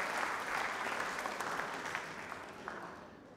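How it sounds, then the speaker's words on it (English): Audience at a magic show applauding steadily for a few seconds, a dense, even wash of clapping at moderate level that thins slightly toward the end, with no talk over it. "Give her a round of applause."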